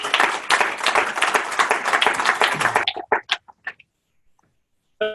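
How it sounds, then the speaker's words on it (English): Applause and clapping for a man named Tony fill the first three seconds, loud and dense, then thin out into a few scattered claps and silence, with one last clap near the end. "a huge round of applause to Tony!"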